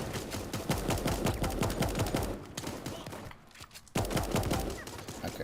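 Rapid, loud bursts of gunfire-like blasts and explosions fill a round of the Super Animal World video game, with a grenade thrown and detonating amid the chaos, a brief lull near the middle before the barrage resumes.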